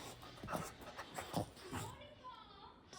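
Dogs panting in quick, soft breathy bursts, close and fairly quiet in a home setting with someone on the couch, with a faint whimper-like tone near the end and no clear talk over it.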